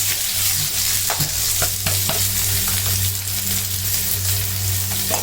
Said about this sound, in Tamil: இப்போ கருவேப்பிலை போட்டுக்கிறேன் வெங்காயத்தூண்டு